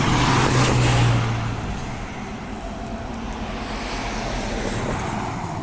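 Two Transperth buses on a deviation route through Whitby Estate pass close by, a loud engine roar and rumble at the start that quickly fades into a steady, quieter background of distant motor noise.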